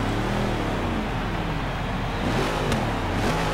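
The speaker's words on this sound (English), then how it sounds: "How does this thing sound? Oh, the detail in that when you rev it." An Audi R8 engine revs in Forza Horizon 3, loud and close, with rising and falling harmonic engine tones over a constant roar.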